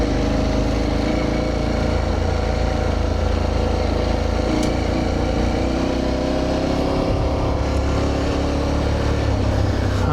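Aprilia Tuareg Rally motorcycle being ridden, its engine droning steadily and loudly with heavy low rumble and wind buffeting throughout, no voices.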